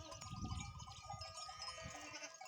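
Sheep bleat faintly outdoors amid a soft jangle of bells, with scattered low rustling nearby.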